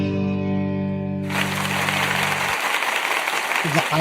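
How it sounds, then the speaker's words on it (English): Audience breaking into a round of applause during a live radio show, dense clapping starting abruptly as sustained musical tones cut off, continuing steadily with a voice briefly heard near the end. "I can't believe that second round of applause was even louder than the first."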